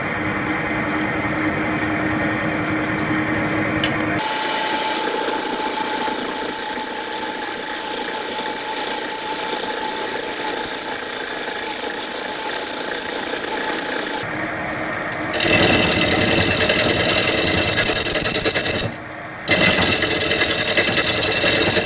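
A wood lathe spins an epoxy and wood bowl blank while a tool cuts toward the tenon, a loud steady motor drone with scraping hiss that shifts in tone, briefly drops, then returns stronger with a short pause near the end.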